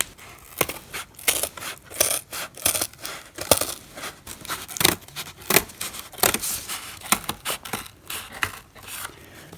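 Cutting along a drawn line while building a life-size Fortnite pickaxe prop, heard as a close, steady run of sharp snipping and tearing strokes in an irregular rhythm, with no talking.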